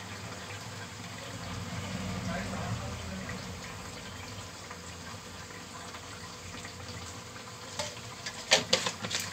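Fish simmering in a pan with a little raw oil added, a steady soft bubbling sizzle with faint stirring, then a few sharp clinks of a utensil near the end.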